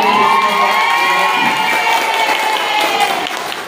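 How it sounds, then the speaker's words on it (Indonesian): A class of students claps and cheers together after an angklung demonstration, a loud sustained burst of applause with whoops that tapers slightly near the end. "Oke, terima kasih tepuk tangan"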